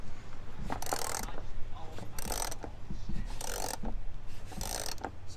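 Bolts being loosened from a car airbox during routine daily-driver maintenance: repeated short ratcheting wrench bursts in a steady rhythm, close by, with light rubbing and clinking between strokes.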